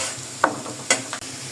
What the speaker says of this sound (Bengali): প্রথমে যে পেঁয়াজটা একটু লাল লাল করে ভাজা নিব।